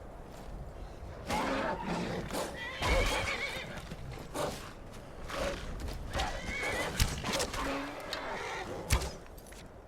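A horse neighs and whinnies in Skyrim Anniversary Edition amid hoof clip-clops and rough growling game noises, dense and continuous throughout.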